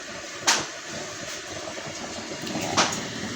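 An electric blower hooked to a used-oil cooking stove runs outdoors as a steady airy whoosh and hum, with two brief clicking knocks over the constant drone.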